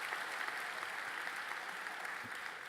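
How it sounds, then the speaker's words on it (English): Commencement audience at St. John's University applauding, a steady dense wash of many hands clapping at moderate distance, sustained without pause. "you can clap for that"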